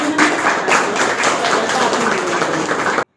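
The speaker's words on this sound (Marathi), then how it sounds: "आपण सर्व पत्रकार बांधवांनी जोरदार टाळ्या वाजवून" A gathering of journalists claps loudly and steadily as a group, a dense, close round of applause that cuts off abruptly at the end.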